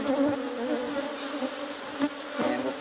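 Worker bees buzz steadily around an opened hive fitted with a queen excluder, a dense continuous insect hum with a few louder swells as individual bees pass close.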